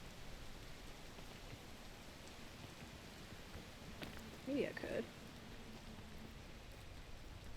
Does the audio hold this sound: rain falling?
yes